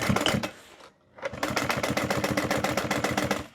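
Sewing machine top stitching the edge of a tote bag pocket: a loud, rapid, even run of stitches, a brief pause, then a longer steady burst of rhythmic needle strikes, close up and with no talk.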